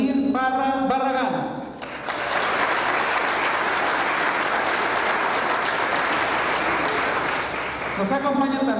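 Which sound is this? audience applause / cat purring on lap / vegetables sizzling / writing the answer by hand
audience applause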